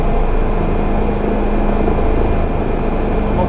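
A Bell 407 helicopter hover taxis in Microsoft Flight Simulator, its rotor and turbine making a dense, steady roar close by with no break.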